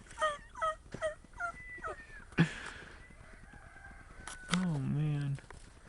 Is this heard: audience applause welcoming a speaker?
no